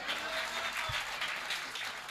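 Audience applause, a steady wash of many hands clapping together in a hall at a Hindi comedy poetry recital, continuous and fairly loud with no voices over it.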